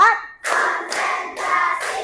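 A primary school class claps hands together in counted bursts, three close, sharp rounds of group clapping separated by brief gaps, following a short spoken cue at the start.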